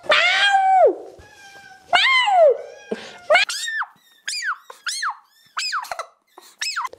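A cat meows repeatedly up close, starting with long drawn-out cries and then giving a string of shorter, higher meows.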